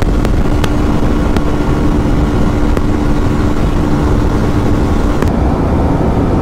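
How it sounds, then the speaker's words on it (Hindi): KTM RC125 and Honda Shine 125 motorcycles riding at speed, a steady loud engine and wind roar filling the whole stretch with no letup. "सब आराम से बाइक चला रहे हैं"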